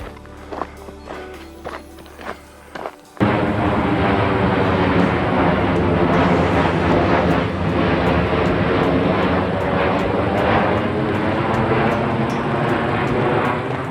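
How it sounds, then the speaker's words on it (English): A jet plane roars loudly overhead, a steady broad rumble that sets in abruptly after a few seconds of quieter scattered sounds and holds to the end. "Plane number 4."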